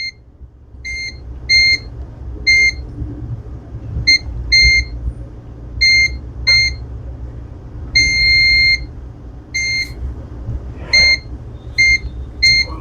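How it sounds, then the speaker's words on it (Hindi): A multimeter's continuity buzzer beeping while probing a shorted OnePlus 10T phone circuit board: a series of loud, sharp tonal beeps of uneven length starting and stopping irregularly, over a low background hum. "तो मैं बजर बजा रहा हूं"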